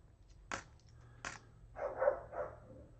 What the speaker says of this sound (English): you can hear my puppy in the backyard